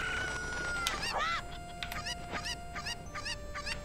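A cucco chicken in The Legend of Zelda: Ocarina of Time randomizer gives a loud squawk, then several quick clucks, all close and clear over soft game ambience.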